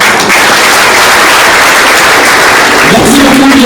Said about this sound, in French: merci d'applaudir pour vous-même